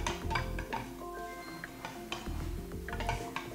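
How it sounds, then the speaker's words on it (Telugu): A spoon stirs turmeric into milk in a vessel, making close, steady scraping with light metallic clinks and taps for a few seconds, with no talking. "పసుపు అంతా కూడా చక్కగా కలిసిపోయేంత వరకు మనం పాలని ఇలా కలుపుతూనే ఉండాలి."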